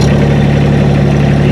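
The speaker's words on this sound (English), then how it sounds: "The engine started." Rippa RS06 skid steer diesel engine runs at a steady, loud idle just after starting, a close, even low throb with no talk.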